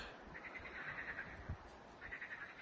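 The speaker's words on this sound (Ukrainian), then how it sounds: "Жабки квакають, птички співають, все гарно." Frogs croak in a woodland setting by water, a steady pulsing chorus of calls in repeated bursts, moderately close, with no talk over it.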